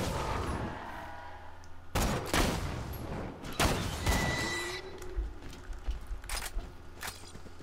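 Sharp, loud sniper rifle cracks in Borderlands 2, a few spaced shots near the two-, three-and-a-half- and four-second marks with echoing tails, followed by quieter clicks and mechanical game sounds.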